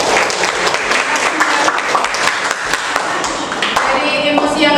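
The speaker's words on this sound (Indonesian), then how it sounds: "silakan tepuk tangan untuk Rika." Audience clapping at a school session on managing emotions, loud and close, with distinct individual claps standing out from the sustained applause.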